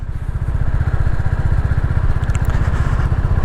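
A Royal Enfield motorcycle engine runs steadily and loudly with a fast, even low-pitched pulsing throb, heard close up while riding, with no voices.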